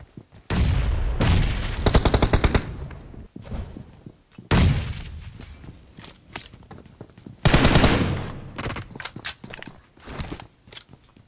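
Bursts of automatic gunfire in a ranked shooter match, with several loud sustained volleys separated by brief pauses and scattered single shots, plus faint footsteps and mechanical clicks between them.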